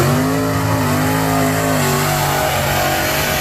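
A big block V8 fitted with a vacuum pump revs loudly, its engine note rising, holding, then dropping and climbing again over a few seconds, close and continuous.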